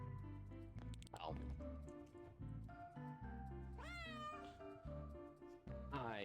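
A cat meows repeatedly in the video game Returns Outlet Simulator, several drawn-out rising and falling calls over steady background music.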